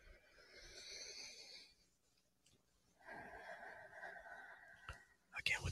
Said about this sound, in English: Again, with the breathing.